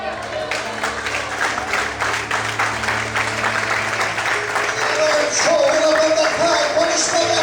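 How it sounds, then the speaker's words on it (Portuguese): A church congregation applauds in a dense, steady wash of clapping, with a voice faintly audible beneath it toward the end. "Quantos podem aplaudir?"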